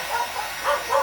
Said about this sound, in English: there's my mutts barking